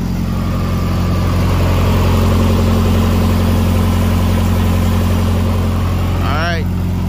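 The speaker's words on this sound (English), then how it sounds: "The trailer is on and running and it's cooling down." A trailer refrigeration unit's engine drones loud and steady at close range with a constant low hum and a strong vibration, a short squeaking sound rising near the end.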